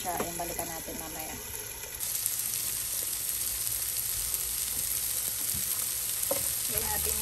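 Tofu frying in a pan hisses and sizzles loudly and steadily, close up, with occasional clinks and stirring sounds; the sizzle grows a bit louder partway through.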